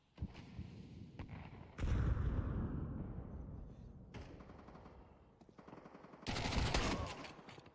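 Mag-7 shotgun blasts from a Counter-Strike match burst out loudly with decaying tails, the heaviest around the middle and near the end, amid other game gunfire.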